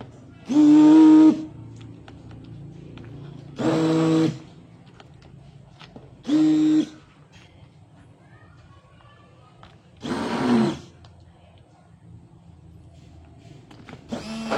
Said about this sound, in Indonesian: di sini berarti sini kita blender ya.